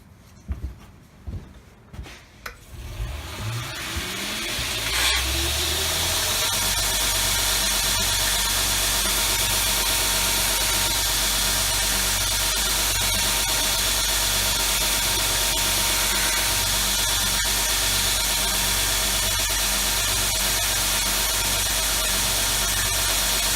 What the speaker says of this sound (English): I'm just going to use a small wheel on my platen to hog out the material here.